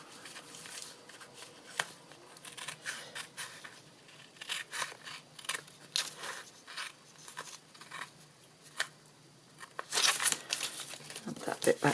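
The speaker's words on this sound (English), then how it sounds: "I'm going to bring in my sticky scissors and just" Scissors cutting sticky back glitter paper, with close crisp snips and crinkling rustles in an irregular rhythm, under a person talking.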